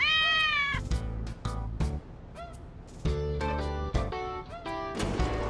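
A cat meows repeatedly in the video game Digital Devil Saga, several bright, drawn-out cries over a steady game music backdrop, loud and close with short gaps between calls.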